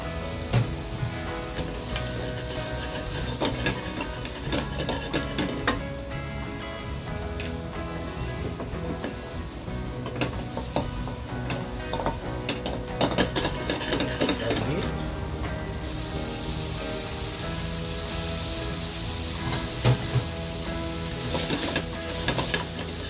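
Mushrooms fry in butter in a pan, a steady close sizzle and hiss running throughout with occasional scraping and stirring clicks from a utensil.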